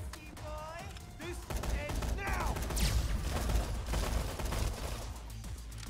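A shotgun fires in the video game Dead Rising 3, amid a busy mix of gunfire, game effects and music.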